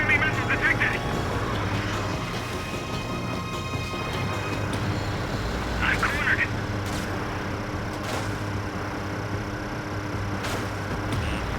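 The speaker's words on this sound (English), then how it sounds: "Watch out for the support aircraft." Jet aircraft roar steadily in the Ace Combat 7 air-combat video game, a loud continuous engine wash with brief chirping tones and radio chatter over it.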